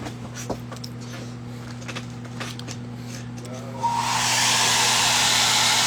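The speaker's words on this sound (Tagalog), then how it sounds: "bumili ako ng ng bagong hair blower" A new hair dryer switches on partway through and then blows with a steady, loud, close whoosh after quieter background hum and clicks.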